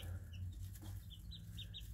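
Backyard egg-laying chickens kept to eat ticks cluck softly, with short scattered calls over a steady low background hum, faint and continuous for a couple of seconds.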